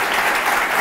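Studio audience at a live comedy show applauding, a dense, steady clapping that fills the whole moment without any talk over it.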